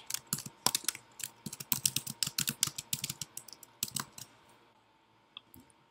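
Someone types a forum reply on a computer keyboard, close up: a fast, uneven run of crisp key clicks that slows and trails off to a few final taps, with no talk.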